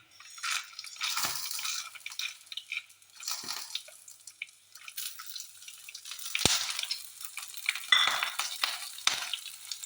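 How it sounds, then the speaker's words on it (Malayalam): Mustard seeds and green chillies spluttering in hot oil while making lemon idiappam, a close, busy crackle of pops and sizzles with sharp bursts throughout and no talk. "പച്ചമുളകിട്ട കാരണം ഇന്നും പൊട്ടിത്തെറിക്കുന്നുണ്ട്"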